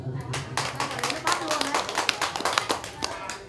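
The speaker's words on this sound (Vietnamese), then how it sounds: "Xin các cụ nổ một tràng pháo tay." Guests at a Vietnamese wedding ceremony give a round of applause, uneven and moderately close, with voices talking over the clapping.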